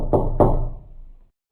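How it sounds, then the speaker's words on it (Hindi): Two sharp knocks on a house door, close and loud, with a short ringing decay afterward and no voices. "कोई उसके घर का दरवाजा खटखटा रहा था"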